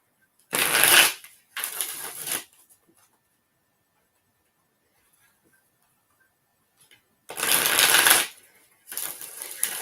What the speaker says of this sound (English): Let me shuffle these up really good for you.